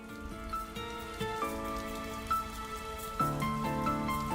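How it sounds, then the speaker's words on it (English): Rain ambience in a school visual novel video game patters steadily and softly beneath sustained, layered background music notes, with no voices. "The sound of pelting raindrops fills the room's silence."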